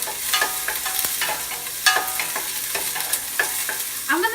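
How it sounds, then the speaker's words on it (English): Vegetables for broccoli cheddar soup sauteing in a pan, with a steady soft sizzle broken by repeated scraping stirs and spoon clacks, close and clear with no talking. "After 1 minute of sauteing, this is what it looks like."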